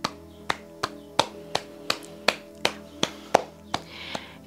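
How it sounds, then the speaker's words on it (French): One person claps steadily during a morning yoga mudra session, about a dozen crisp, close claps spaced evenly in a quiet room, with a faint rustle near the end. "Venez taper dans vos mains comme si vous applaudissiez"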